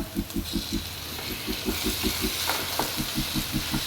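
Tomatoes frying in a pan with browned onion, green chili and garlic for dhaba-style palak paneer, a steady close sizzle with stirring clatter and a faint rhythmic tapping underneath.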